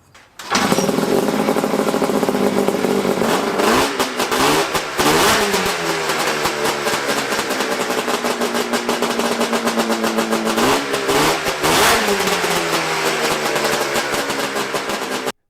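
A $500 4x4 offroad buggy engine freshly rejetted rich starts up and revs loudly and close, with repeated throttle blips and rising and falling engine pitch.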